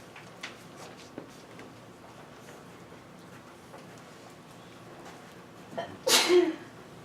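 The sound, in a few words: sneeze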